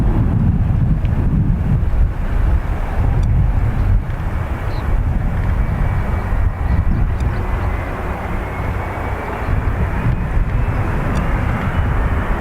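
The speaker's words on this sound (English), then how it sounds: "This is our Aurora livery, Iceland Air 757." Icelandair Boeing 757 in Aurora livery departing Dublin Airport, a loud, sustained jet roar with heavy low rumble and gusty wind buffeting the microphone, no talking.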